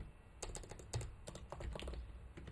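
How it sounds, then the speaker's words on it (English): Quick, uneven keystrokes clatter on a computer keyboard, close by, in short bursts with brief pauses and no talking, while Python code is typed. "okay, again, terrible typing"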